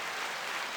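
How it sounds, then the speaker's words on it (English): An applause sound effect plays loud and steady for under a second, a dense crowd-clapping wash that stops abruptly. "We've still got applause"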